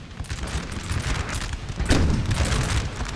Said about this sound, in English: I think they're firing canister shots